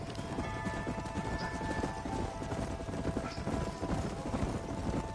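Horses' hooves clip-clop in a steady, brisk rhythm through the Red Dead Redemption video game, a group of riders heard moderately close over low ambient sound.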